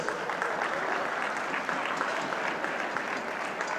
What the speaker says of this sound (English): With a huge round of applause, I would like you to introduce all the 4 teams